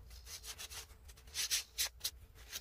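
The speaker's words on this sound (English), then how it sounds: "Now I'm going to wipe all the dust off," A cloth wipes sanding dust off a wooden ornament, rubbing back and forth in quick, uneven swipes, a soft brushing rasp up close with short pauses between strokes.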